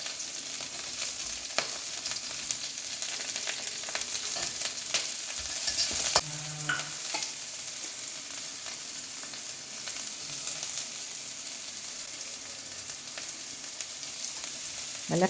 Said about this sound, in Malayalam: നമ്മളെടുത്ത് വെച്ച് നീളത്തിൽ അരിഞ്ഞ് വെച്ച ഇഞ്ചി, പച്ചമുളക്, സവോള എല്ലാം ഇട്ട് കൊടുക്കുക.